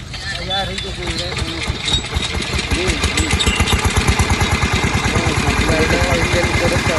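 A borewell drilling machine's engine starts and settles into a rapid, steady chugging idle, close and loud, with a voice talking over it.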